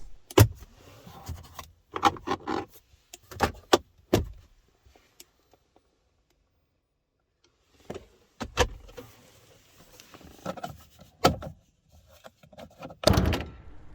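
Storage compartments and then the hood of an Opel Grandland 1.6 Turbo Hybrid4 are opened, producing a series of sharp, close clicks, latch snaps and soft thuds, separated by a quiet pause.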